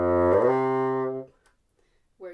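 A bassoon slides from one note to another with uneven fingering, giving a sustained reedy tone that smears through in-between pitches before stopping, followed by the brief start of another note.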